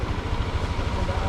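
A motorcycle engine idles during an emission test, a steady low chugging putter close by, running without pause.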